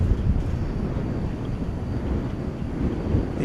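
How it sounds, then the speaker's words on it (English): American Airlines jet in PSA retro livery at night at DFW Airport, a steady loud low rumble of engine roar and wind buffeting that holds constant throughout with no voices. "The PSA America Airlines retro livery, yes it is."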